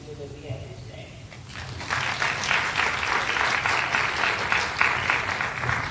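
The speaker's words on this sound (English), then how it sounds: "But please give a round of applause for those speakers that we have here today." An audience at a fireside chat breaks into applause after a quieter opening and keeps clapping at a full, even level to the end.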